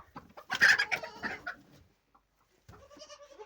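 Hens cluck close by in a backyard coop beside a newly placed nest box, a burst of clucks and then a pause before another short cluck.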